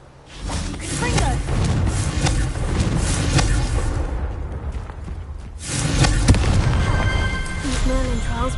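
Confringo fire spell explosions in Hogwarts Legacy, a dense run of booming blasts and whooshes layered over game music and effects, loud throughout with a short lull before another burst.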